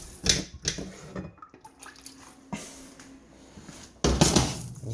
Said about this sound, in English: You want to use water out of the faucet